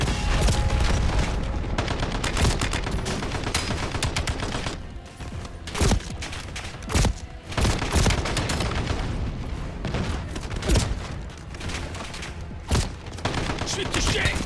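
Dense, loud gunfire from the video game Call of Duty Black Ops 7, with rapid volleys and sharp individual shots cracking over a constant battle din and faint game voices.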